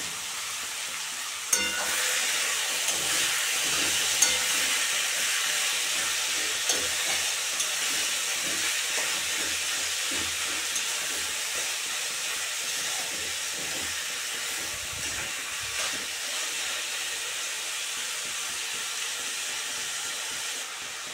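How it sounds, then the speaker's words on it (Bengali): Rohu fish and its roe fry in hot oil, giving a loud, steady sizzle and hiss that holds for the whole stretch with a few sharp spits and crackles and no talking. "এখন মাছ ভাজা তেলটার ভিতরে দিয়ে দিলাম"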